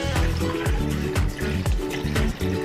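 Water pours steadily into a pot for birria de res, a continuous close trickle and splash over a few seconds with no talk.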